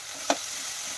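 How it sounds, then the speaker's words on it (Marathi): Onions fry in a pan with salt added, giving a faint, steady hiss with a single soft stir clink partway through. "हे बघा, कांदा पण भाजून झाला आपला."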